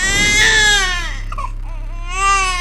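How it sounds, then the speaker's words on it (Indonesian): A baby cries loudly and close by, a sustained wailing cry that breaks off briefly before rising into another wail, with no other voices. "Darto mendengar suara tangisan bayi tepat di belakangnya"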